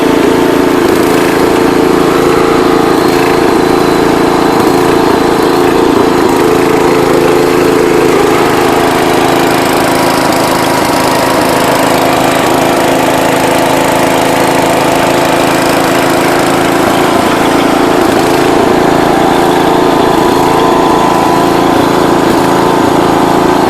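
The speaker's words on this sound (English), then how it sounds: "Nothing like a Kohler engine, that's for sure." A John Deere 210 lawn tractor's Kohler engine runs continuously nearby, a loud steady drone with a slight rise and fall in pitch and no talking.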